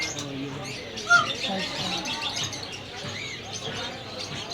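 Birds chirp and tweet amid the busy hum of a bird market, with a brief sharp call standing out early and people talking nearby.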